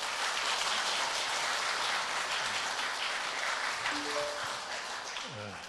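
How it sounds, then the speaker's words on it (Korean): A church congregation claps to welcome the pastor to the pulpit at a Sunday service, a continuous, moderately loud patter of many hands that tapers slightly near the end, with faint speech-like tones near the close. "우리 박수로 우리 환영하도록 하겠습니다"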